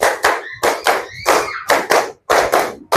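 Group clapping in a counted clap rhythm game during an icebreaker in a classroom session, heard as loud, distinct bursts of hand claps in an uneven counted pattern with short gaps between groups.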